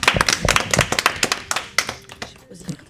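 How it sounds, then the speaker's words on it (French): Audience clapping for a French rapper at a school event, a few loud, distinct claps at first, then thinning into scattered taps that fade out, with voices around them. "Moi je pense qu'on peut l'applaudir."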